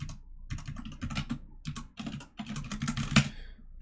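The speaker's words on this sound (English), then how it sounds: "if you hear typing, it's because I am on my server" Close computer keyboard typing in quick dense bursts separated by short pauses, with one louder keystroke near the end and no one speaking.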